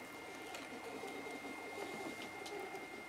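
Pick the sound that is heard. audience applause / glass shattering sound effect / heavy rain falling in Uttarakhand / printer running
printer running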